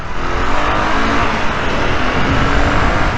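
A BSA Goldstar single-cylinder motorcycle rides through a tunnel, its engine a loud, dense roar with echoing reflections, sustained and close throughout with slight swells in level.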